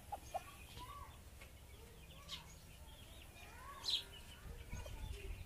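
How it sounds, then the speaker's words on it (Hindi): A hen clucks softly in a home setting while being called to eat a parrot's food, giving a few scattered, faint clucks and chirps against low background noise, with a person's voice calling nearby. "आ जाओ मुर्गी, मिठू का खाना खा जाओ।"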